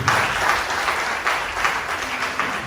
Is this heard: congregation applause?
yes